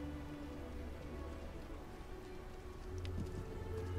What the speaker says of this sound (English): Where it's very overcast and raining.